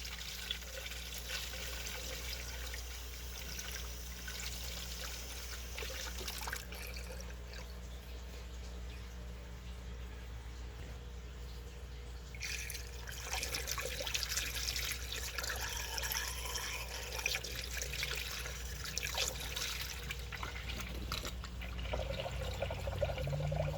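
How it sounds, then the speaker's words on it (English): Coolant poured into the engine cooling system of a Lexus ES350 with a 3.5 V6 during alternator replacement, a steady liquid pour and trickle that grows louder partway through, with a constant low hum underneath and no talking. "I'm going to add coolant here."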